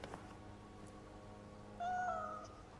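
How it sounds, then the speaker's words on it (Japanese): A cat meows in a video game, heard faintly over soft background music; a single drawn-out, rising and falling meow comes near the end. "猫ちゃんがいた。"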